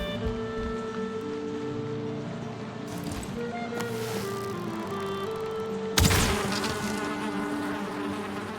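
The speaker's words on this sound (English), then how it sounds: "Oh, there's a beehive in here." Bees buzzing around a beehive, a dense droning hum with several insects' pitches overlapping and sliding, close and steady, broken by a brief rustling burst partway through, with no talking.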